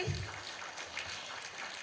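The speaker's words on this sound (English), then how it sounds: "Let's have an answer of applause for Dr. Carol for that wonderful presentation" Faint, steady applause from a conference audience after a presentation at a child protection conference in Africa, sounding diffuse and distant throughout.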